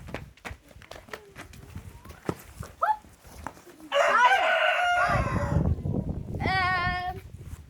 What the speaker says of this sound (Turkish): Şurada da gördüğünüz gibi tavuk horoz var.